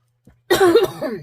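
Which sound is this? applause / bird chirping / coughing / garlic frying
coughing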